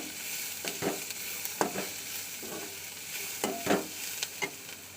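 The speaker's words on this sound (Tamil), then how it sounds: "வெங்காயம் நல்லா வதங்குது பாருங்கள்" Onions sauté in a pan for egg poriyal, a soft sizzle broken by several close scraping stirs of a spatula at an uneven pace.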